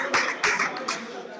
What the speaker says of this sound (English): His fans clapping after each shot.